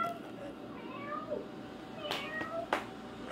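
A person imitates a cat's meow near the camera on a balcony during a typhoon in the Philippines, giving a few short, close meow-like calls over a steady background of wind and rain.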